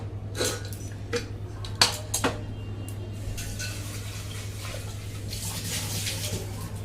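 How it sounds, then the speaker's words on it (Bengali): Chopped vegetables being rinsed in water in a home kitchen, with clinks of a pot or bowl and a few sharper knocks early on, then a steady soft wash of water near the sink, no talking. "সবজিটাকে ভালো করে ধুয়ে নিলাম"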